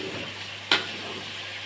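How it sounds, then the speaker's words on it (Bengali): Boiled taro with garlic and green chilies frying in oil in a pan, a steady soft sizzle with a single brief clink partway through. "এখন আমি এটা তেলে ভেজে নিচ্ছি।"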